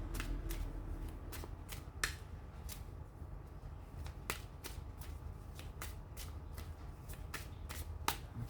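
Tarot cards being shuffled close up, a steady series of crisp riffling snaps and flicks repeating alone over a quiet background.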